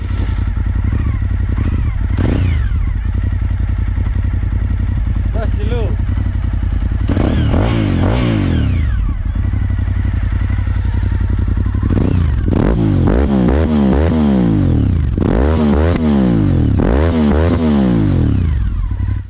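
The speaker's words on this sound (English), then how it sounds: "It's amazing how quiet they made that motorcycle, or this motorcycle, with the stock exhaust." A Suzuki SV1000S V-twin motorcycle with stock exhaust rumbles close by, idling steadily and then revving up and down several times in repeated throttle blips, with a voice faintly audible under the engine.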